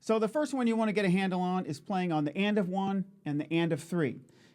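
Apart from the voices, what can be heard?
None of the usual background noises is heard.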